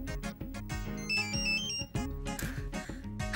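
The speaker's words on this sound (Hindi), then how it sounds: "बजा बजा फोन बजा।" A phone plays a melodic electronic ringtone in repeating musical phrases, loud and close, with no talking over it.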